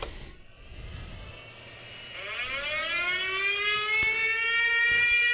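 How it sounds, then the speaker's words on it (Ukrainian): An air raid siren winds up and rises in pitch, swelling into a loud sustained wail from a distance. "І повітряна тривога."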